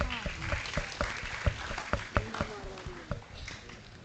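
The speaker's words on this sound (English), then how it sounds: "Please welcome him with a round of applause." Scattered clapping from an audience at a youth convention welcoming a speaker to the stage, uneven claps of varying loudness mixed with background murmur and room noise.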